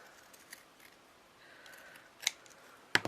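Scissors snip fabric for a heart-shaped pin cushion, two or three sharp, close cuts after a quiet stretch with faint handling noise.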